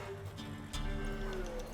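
Hoofbeats and horse noises from a mare in The Witcher 3, heard briefly after a race with music and game ambience underneath, and no talking.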